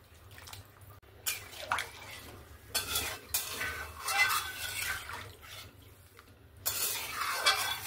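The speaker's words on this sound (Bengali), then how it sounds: "জলটা দিয়ে ভালো করে একবার নাড়াচাড়া করে নিলাম।" A fish curry gets stirred in a pot just after water is added, with scraping, sloshing bursts coming in several separate strokes against a low steady hum.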